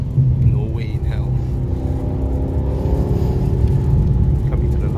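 A Mercedes-AMG GT four-door coupe, 2019 model, driven hard around a race track, its engine a loud continuous rumbling drone heard from inside the car with a faint whine, and a voice talking over it.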